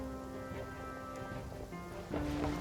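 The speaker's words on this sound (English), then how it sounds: "Hey, the rain, so we don't have to apply Hydro ourselves." Steady rain hisses inside Genshin Impact, with a low rumble of thunder underneath and game music tones, growing slightly louder near the end.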